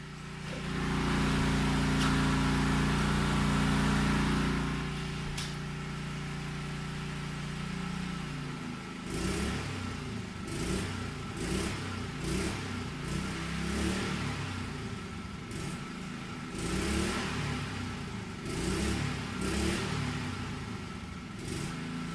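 An engine driving a generator runs loud and steady at first, then drops to a lumpy idle and is revved repeatedly in short bursts, the surges rising and falling in an uneven rhythm.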